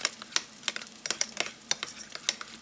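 A spoon stirs garlic chili paste into a sauce for salmon patties, giving a string of quick clicks and scrapes against the bowl in an irregular rhythm, close up and with no talk.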